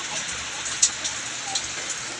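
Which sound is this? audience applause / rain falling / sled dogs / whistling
rain falling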